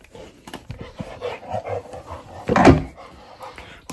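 A small dog travelling in a car gives short whimpers and yips, followed by one louder bark near the end, close by amid faint background noise.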